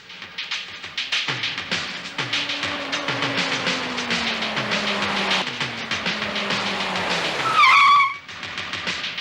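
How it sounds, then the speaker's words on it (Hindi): An arriving car approaching with a falling engine tone, then a sharp squeal of brakes as it stops, the whole pass loud and close with a rumbling, clattering undertone. "अरे लगता है गाड़ी आई, साहब लोग आ गए"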